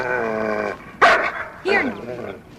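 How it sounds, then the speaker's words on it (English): A dog in a TV drama barks twice, sharp and close, after a sustained whiny tone. "Nice doggy."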